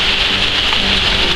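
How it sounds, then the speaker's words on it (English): Heavy rain pours down outdoors under a tree beside an old Chevy K20 truck, a loud steady hiss of drops hitting the surfaces around, continuous and close with no voices. "It is raining right now."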